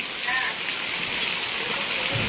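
Rain falls steadily outdoors at a film shoot, a dense, even hiss of drops filling the scene throughout the short stretch, close and fairly loud, with no clear speech over it.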